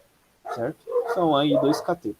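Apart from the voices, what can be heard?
dog barking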